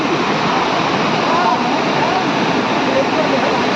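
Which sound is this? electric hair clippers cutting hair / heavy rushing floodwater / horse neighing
heavy rushing floodwater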